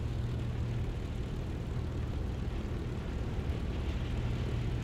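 Steady propeller plane engine drone in War Thunder simulator battles as the aircraft approaches the runway at about 180 km/h, a continuous low rumble holding even throughout with no talk.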